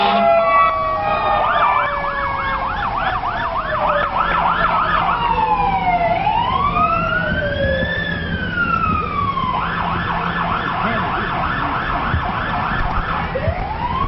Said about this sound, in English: That's that siren as loud as it could go.